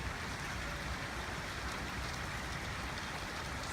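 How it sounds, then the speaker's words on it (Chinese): Heavy rain pouring down in March onto ground still covered with snow, a dense, steady roaring hiss with no pauses, close and loud. "还有大家现在听到哗哗哗的这个雨声。"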